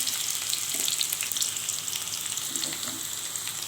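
A close, continuous bubbling sizzle of potatoes frying in refined oil in a wok, the oil reused from frying pointed gourd, with a few soft stirring knocks and no talking.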